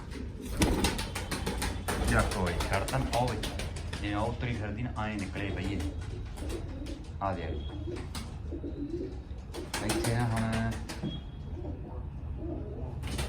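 Pigeons coo in soft, repeated throaty calls amid occasional fluttering and rustling, with people talking nearby throughout.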